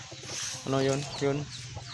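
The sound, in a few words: free range chickens clucking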